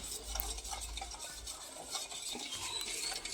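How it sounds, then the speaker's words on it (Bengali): A spoon stirs oil mixed with lemon juice, salt and sugar in a bowl for mango oil, giving a steady scraping and clinking close up with faint metallic taps throughout, no voices. "একসাথে ভালো করে আগে মিশিয়ে নেব আমি। নুন আর চিনিটা যাতে একদম গলে তেলের সাথে মিশে যায়।"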